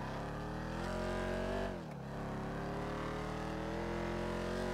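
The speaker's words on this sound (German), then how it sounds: "Schöner Klang vom Auto." Engine of a Dominator GTX car in a video game, a steady, loud, close drone that dips briefly as the car shifts or lifts off the throttle, then holds its pitch again.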